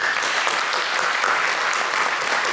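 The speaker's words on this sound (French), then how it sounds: "on peut l'applaudir bien fort." Audience applause at a motorcycling expo and talk, greeting an endurance racing rider, steady dense clapping filling the whole stretch at an even level.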